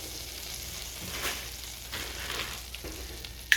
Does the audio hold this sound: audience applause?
no